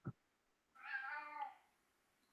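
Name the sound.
house cat meowing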